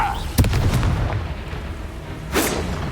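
Confringo blasting spell bursts in Hogwarts Legacy, with two sharp explosive booms, one early and one near the end, and a rumbling, crackling combat din between them.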